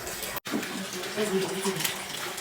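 Warm and cold tap water pours steadily into a bathtub, a continuous rushing splash under a person talking nearby.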